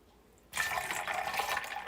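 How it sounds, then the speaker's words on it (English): Carrot and ginger juice pours into a cocktail: after a brief quiet moment, a close, steady liquid stream starts and runs on continuously to the end. "Then we're coming in with our carrot and ginger juice."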